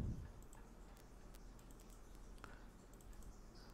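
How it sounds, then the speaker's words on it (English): Typing on a computer keyboard, faint scattered key clicks and taps at an irregular pace, close and quiet, no talking. "Type the same path again in the address bar and press enter."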